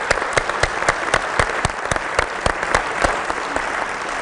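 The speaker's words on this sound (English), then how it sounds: "I think we all should applaud." Audience applause at a symposium panel, a dense, steady wash of many hands clapping with sharp individual claps standing out, moderately loud and sustained throughout without talk.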